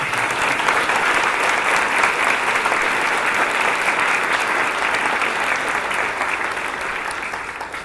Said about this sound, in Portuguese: Letícia, a nossa salva de palmas.